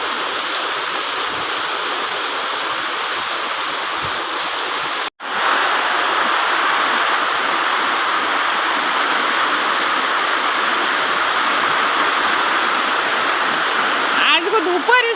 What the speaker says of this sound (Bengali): মগো এই জায়গা কি পরিমাণ বৃষ্টি হইছে